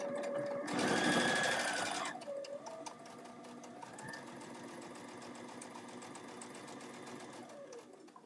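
Sewing machine stitching a bag seam through layered fabric, a close, loud burst of fast whirring stitches followed by a quieter, slower run of stitching.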